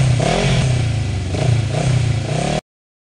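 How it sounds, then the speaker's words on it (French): A motorcycle engine revs up and down in several rising and falling swells, loud and close, with a rough mechanical clatter under the exhaust note. The sound cuts off abruptly near the end and no one speaks. "La moto."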